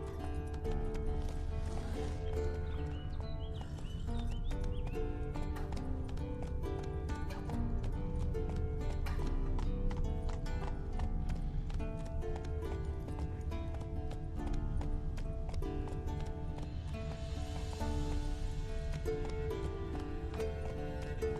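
Roach, a horse in The Witcher 3, gallops in a steady rhythmic clip-clop of hooves that runs throughout, close and continuous over a dense game soundscape, with a brief whinny-like texture near the end.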